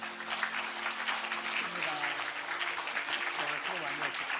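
Church congregation at Gangbuk Central Baptist Church clapping during a Sunday worship service, a dense, continuous round of applause with voices talking underneath throughout.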